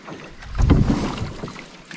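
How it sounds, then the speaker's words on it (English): Canoe paddled across a lake, a single close paddle stroke swishes and gurgles through the water, with light wind buffeting the microphone. "I'm just gonna keep on paddling"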